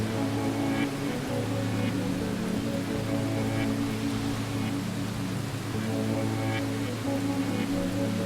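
Rain for sleeping falls as a constant, even hiss with a faint low hum underneath, unbroken and uniform from start to end, with no talking.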